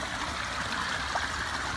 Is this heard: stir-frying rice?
no